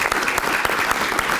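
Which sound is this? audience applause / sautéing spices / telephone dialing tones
audience applause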